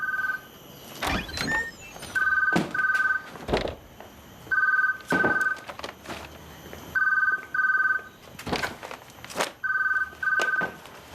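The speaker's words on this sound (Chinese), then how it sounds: "电话响了，电话响了" An electronic phone ring repeats in regular double bursts, over a background of clattering thumps and knocks.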